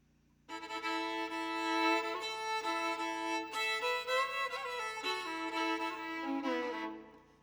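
Fiddle playing a tune transposed to E using open strings, a bright bowed melody with sliding pitch changes that starts after a brief pause and fades out at the end, close and clear with no talking.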